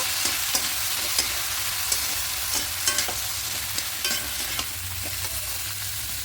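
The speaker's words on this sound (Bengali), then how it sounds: "দিয়ে খুব ভালো করে মিশিয়ে নেব" Ground coriander, cumin, turmeric and chili powder sizzle in a pan for a shrimp curry with taro, potato and eggplant, stirred with steady scraping strokes over a continuous frying hiss.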